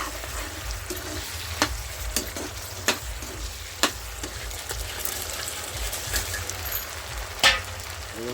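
Paratha pieces fry and get stirred in a chilli sauce thickened with cornflour, cooked village style: a steady loud sizzle, broken every second or so by sharp scraping clacks of the stirring spoon against the pan.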